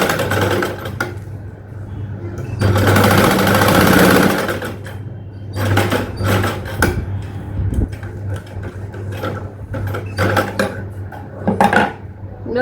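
Close and loud, a sewing machine runs a steady burst of rapid stitching while attaching a zip to a child's dress, then follows with shorter intermittent runs and clicks of fabric handling.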